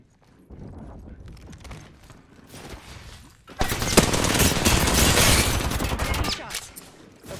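Gunfire in Apex Legends starts with scattered shots, then swells into a loud, sustained automatic burst lasting a few seconds before it cuts off.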